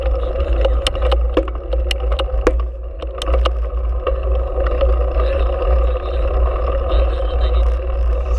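A motorcycle labors up a steep uphill trail on the Kabayunan-Bitbit loop, its close, loud engine holding a steady low drone with scattered rattles and clicks.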